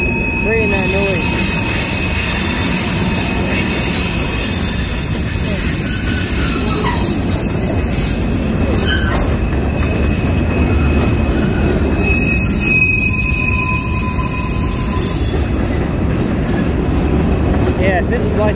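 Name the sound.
train wheel flanges squealing against the rail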